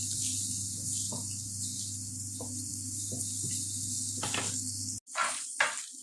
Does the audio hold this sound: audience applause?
no